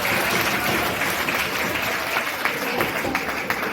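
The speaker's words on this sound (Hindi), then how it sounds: "दोनों हाथ खड़े करके अपने अपने लिए तालियां हो जाए एक बार" A crowd of students at a gurukul New Year celebration claps for themselves, a continuous full round of applause, loud and near for its whole length.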